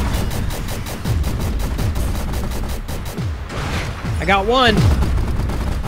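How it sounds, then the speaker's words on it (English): Sniper gunshots crack out in a desert level of the video game Gear Up, a run of sharp shots and bursts over a steady rumble, with a player talking briefly over the firing. "Someone keeps taking little pot shots at me."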